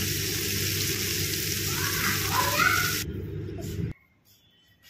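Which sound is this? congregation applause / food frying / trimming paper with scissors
food frying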